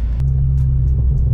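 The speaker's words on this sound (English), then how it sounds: "The car sounds dope with the hood off." A car engine idles steadily with the hood removed, a loud, continuous low rumble with slight flutter, close by and without talk.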